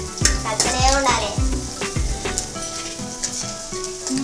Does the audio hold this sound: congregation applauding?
no